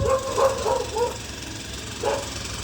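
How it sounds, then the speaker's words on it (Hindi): Several dogs bark at a woman on a scooter outside an animal shelter, with a quick run of barks early on and another a moment later, moderately close over steady outdoor background noise. "ये लोग भौंक रहे मेरे ऊपर।"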